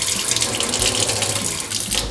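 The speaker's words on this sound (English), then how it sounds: "Now we're gonna try good old-fashioned Rio Grande Valley tap water." Tap water from the Rio Grande Valley gushes steadily from a household faucet, a close, loud, continuous splashing stream with no talking.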